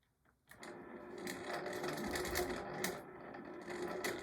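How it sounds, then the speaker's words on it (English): A longarm quilting machine stitches a zigzag while attaching a quilt label, starting up after a brief pause and then running steadily and closely with a continuous mechanical whir. "Now, I'm just going to be using like a zigzag stitch"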